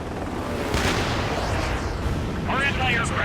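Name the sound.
enemy gunfire on a base, from video game Ace Combat 7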